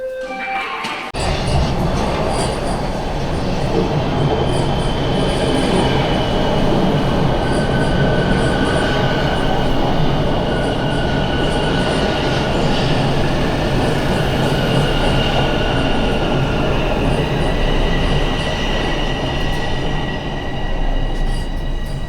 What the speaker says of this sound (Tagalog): Tayo ay magsa-subway pauwi.